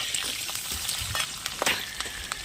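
Curry leaves sizzling in hot oil for a cabbage bhaji tempering, a close crackling fry with quick pops and light stirring taps, no voices.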